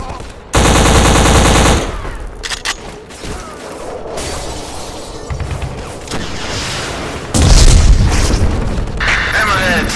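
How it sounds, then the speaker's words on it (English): A military video game erupts with heavy gunfire and explosions: a long loud burst of rapid automatic fire, scattered booms and shots, then another heavy blast of firing, with voices talking in between. "DZ receiving heavy fire."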